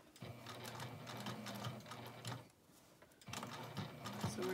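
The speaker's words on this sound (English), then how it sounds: "So we're just gonna top stitch all the way around." A sewing machine top stitches around a small fabric basket in quiet, rapid whirring runs, pausing briefly before stitching again.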